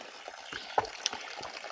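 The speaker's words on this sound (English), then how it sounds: "this is where we were supposed to find this spring water coming out of a pipe." Spring water running from a pipe at a trailside source along the Bartram Trail, a soft steady trickle and splash with faint bursts of bubbling, close by and fairly quiet.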